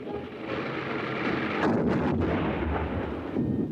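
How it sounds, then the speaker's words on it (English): An artillery shell explodes in sand dunes on a test range, a heavy distant boom with a rolling rumble that lingers and fades, heard alone against a low background. "Now watch the explosion in the sand dunes."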